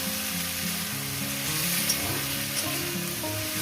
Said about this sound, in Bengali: এভাবে আমি দু মিনিট ধরে এটাকে ভেজে নেব